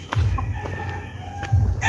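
Young roosters (stags) crowing in a gamefowl yard, two strong nearby bursts at the start and near the end with quieter farmyard noise between.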